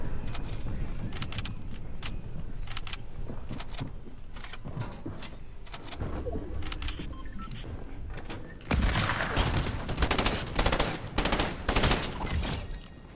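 Automatic rifle fire in Fortnite, many rapid cracks in irregular bursts that grow louder and denser toward the end, mixed with busy game noise.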